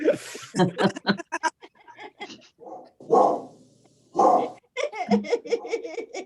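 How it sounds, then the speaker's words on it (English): A dog barks a few times, loud and close, in short bursts between a gathering's speech and laughter at a church service. "Okay, who got that dog?"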